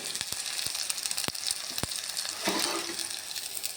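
Onions frying in a pan for a leafy-greens curry, a soft continuous sizzle with a few sharp ticks and a brief stir-like scrape near the end, no voices.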